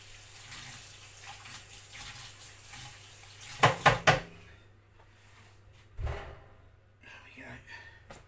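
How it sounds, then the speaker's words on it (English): A spoon rinsed under a running tap: a soft, steady trickle of water, a quick burst of sharp metallic clatters in the middle, and a later thud, with quiet talk throughout. "wash this spoon off a minute"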